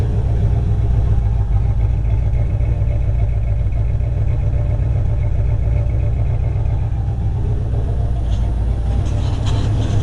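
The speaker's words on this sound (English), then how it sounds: "I got a MagnaFlow Universal Cat on it with a Flowmaster 40 series muffler." A Promar 360 V8 in a 1991 Grand Wagoneer idles through a MagnaFlow universal catalytic converter and a Flowmaster 40 series muffler, giving a steady, close, deep exhaust rumble that runs alone for the whole stretch.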